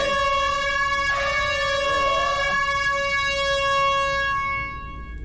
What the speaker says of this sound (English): How dare you airhorn me?